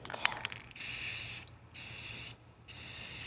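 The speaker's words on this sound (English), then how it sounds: "Let's spray paint." A spray paint can sprays in three steady hissing bursts onto tile, close and fairly loud, separated by short pauses, after a few faint clicks.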